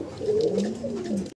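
Young pigeons, a pair of black-lace Shirazi and a pair of red ones, coo in a soft, close, continuous rolling murmur with no talk over it.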